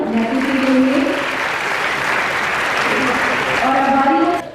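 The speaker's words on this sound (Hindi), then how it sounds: "हमारे अतिथियों को जोरदार तालियां के लिए।" Loud, sustained crowd applause at a medal and honours ceremony in Chhattisgarh, filling the whole stretch with dense clapping while a voice briefly speaks at the start and end.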